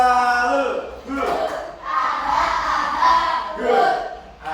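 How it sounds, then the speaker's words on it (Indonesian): A group of teachers in a training session performs a rhythmic clapping chant, loud voices calling out together in shouted bursts with claps between them, close and energetic. "kalau benar beri apa? Tepuk salut."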